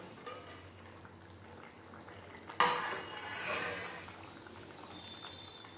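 A lid lifted off a pot of boiling mustard hilsa curry, with a clear metallic clink of the lid against the pot followed by a burst of bubbling and hissing steam that slowly fades, over faint background noise.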